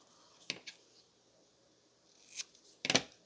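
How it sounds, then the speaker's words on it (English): Scissors snip through paper while page tabs and bookmarks are being made, a few short crisp cuts spaced apart, with a double snip near the end, close and fairly quiet. "I'm just gonna cut this."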